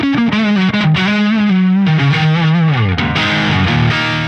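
A distorted electric guitar through a Neural DSP Fortin Cali amp simulation plays a loud, close melodic lead line with bends and slides, continuous and alone.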